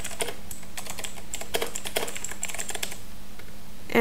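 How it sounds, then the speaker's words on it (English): Rapid, uneven clatter of keys being typed on a computer keyboard while entering text in CapCut on a PC, close and crisp, in short bursts with brief pauses and no voices. "I'm also going to type in my text"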